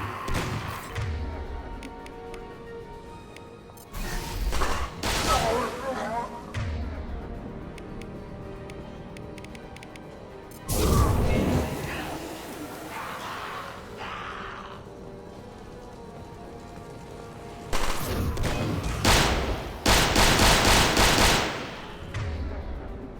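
Gunfire crackles in a firefight in the video game Mass Effect 2, with several loud bursts of impact shots and rapid shooting separated by lower-level combat ambience.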